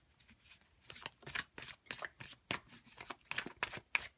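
Tarot cards shuffled by hand in a series of crisp riffling bursts with short pauses between them, close and fairly quiet, with no talking.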